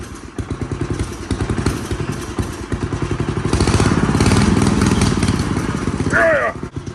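A 1968 Massey-Ferguson MF10 garden tractor engine runs close up with a steady, rapid thumping beat and heavy vibration, rising slightly in the middle, while people talk over it and a short squeal appears near the end.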